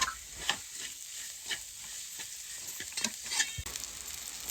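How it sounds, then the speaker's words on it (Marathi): Masala fries in a pan as a spoon stirs it, making continuous low sizzling with scattered scraping clicks and knocks. The sound is fairly quiet and close, with no voices. "थोडा अजून परतून घेऊ."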